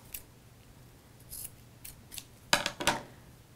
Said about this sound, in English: I will trim it so that it's even with the bottom and just even up those ends down there